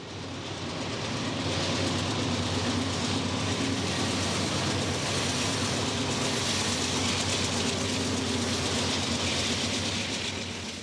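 A Union Pacific freight train rolls along the main line through Las Vegas, a loud, steady rumble of wheels and cars that holds constant throughout with no voices.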